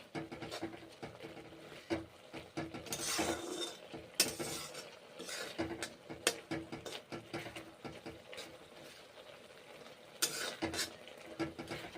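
Maggi noodles cook in a pot with pepper powder, with repeated scraping and clinking of a spoon against the metal pot over a faint simmer, close by and irregular.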